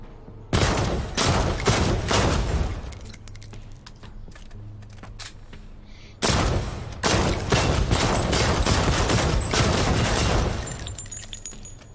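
Rapid bursts of gunfire from a weapon in secondary firing mode in a James Bond VR shooter game, two long loud salvos of crackling shots split by a short pause, with jangling metallic clatter.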